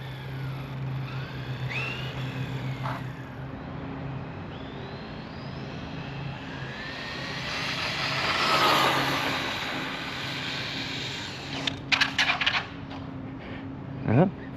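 Rlaarlo Gladiator ROG-1, a 1/14 scale mini basher RC car, making a top speed run outdoors on ground strewn with leaves and branches: a steady motor whine that swells as it passes near mid-clip, ending with a few sharp clatters.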